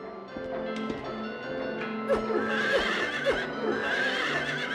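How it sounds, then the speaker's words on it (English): Horse breathing and whinnying in Silent Hill 3, repeated neighs and snorting breaths with some hoof clopping, close and fairly loud, with no talking over it. "the horse is breathing"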